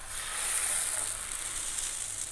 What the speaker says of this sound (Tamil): அரைச்சி வச்ச மாவு பாருங்கள், இந்த மாதிரி சென்டரில் ஊற்றிக்கணும்.